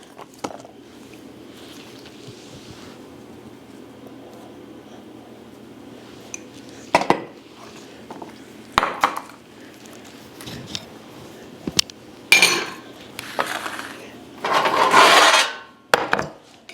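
A utensil scrapes and knocks against a bowl while a breakfast filling is stirred, with quiet rubbing and then louder, irregular clinks and scrapes toward the end.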